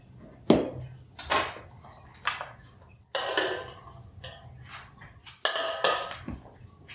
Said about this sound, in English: I'm going to cut around the edge. Just to release it from the pan